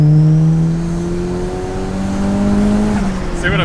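A car tuned to shoot flames accelerates hard, its engine note climbing steadily through the rev range, loud and close from inside the cabin, with a gear change near the end and voices underneath.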